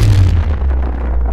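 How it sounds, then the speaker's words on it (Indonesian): A light bulb bursts inside a room with a single loud, sharp pop and boom, followed by a short, fading decay. "Tiba-tiba lampu di dalam kamar meledak, membuat ruangan seketika gelap."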